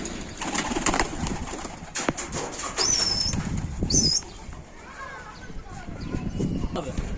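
Pigeons tossed into the air outdoors, with wings flapping and brief bird calls amid a loud, busy background while people talk nearby.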